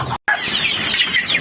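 Young chickens, 20 to 30 days old, cluck on a farm with a steady, close chorus of soft clucks and peeps, broken by a brief moment of silence.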